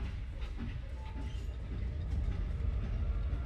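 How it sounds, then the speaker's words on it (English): A train in the video game Project Playtime rolls along with a steady, dense low rumble and faint rattling that swells slightly toward the end, heard alone without voices. "Now the train's moving."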